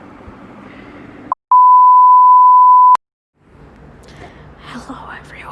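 A single long steady electronic beep tone, loud and clean, lasting about a second and a half, with a muffled voice murmuring before it and soft talk starting again after a short silence.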